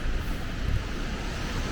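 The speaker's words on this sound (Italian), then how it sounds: "godersi il rumore della cascata" Steady broadband rush of a waterfall below a mountain road on the Strada della Forra, continuous and fairly loud, mixed with wind buffeting the microphone, no voices.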